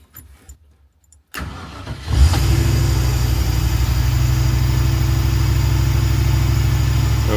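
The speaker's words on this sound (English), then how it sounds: "A very fast idle." A 4.6 stage one V8 sits quiet for a moment, then cranks and fires into a loud, fast, steady idle with a deep continuous rumble, close up and with no one talking.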